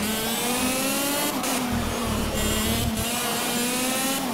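A race car engine from the video game Project Cars holds a steady, loud, high-pitched drone that rises and dips slightly with throttle, plus brief rumbles and knocks of contact, with no talk over it.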